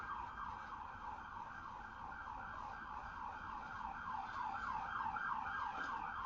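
A police car siren, Capitol Police, wailing in a steady rising and falling cycle, moderately loud and distant to mid-range, over continuous street traffic rumble with no talk.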